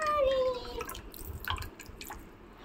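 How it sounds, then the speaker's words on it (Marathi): Water pours from an earthen pot into a glass during ice cream making, a soft, close trickle that thins into a few quiet drips and gurgles. "आणि मग ह्याच्यात टाकलं मी आता हा पूर्ण पाणी"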